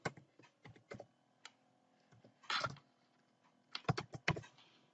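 Close, clicky keystrokes on a computer keyboard as a folder name is typed, in a few quick bursts separated by short pauses, with no talking.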